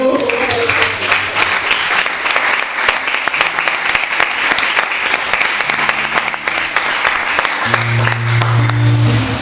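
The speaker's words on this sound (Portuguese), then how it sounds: "Você pode aplaudir o Senhor?" A church congregation applauds in dense, continuous clapping, loud and close, with a sustained musical tone running underneath through the end.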